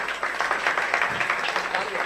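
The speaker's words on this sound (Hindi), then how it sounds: "आप लोग तालियां तो बजाते रहे।" Audience clapping during a Jain religious discourse gathering, a dense continuous wash of many hands filling the whole moment at steady loudness, with no clear voice on top.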